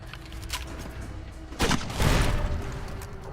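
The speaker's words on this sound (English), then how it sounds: "Mercenary grenade rifle." A mercenary grenade rifle fires in Fallout: New Vegas, giving a couple of sharp blasts followed by a loud, rumbling explosive burst that swells and decays over a few seconds.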